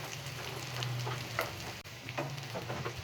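Spicy plantain slices fry in a pan with a steady close sizzle and bright crackling pops scattered throughout, the oil hissing evenly for a few seconds with no voices.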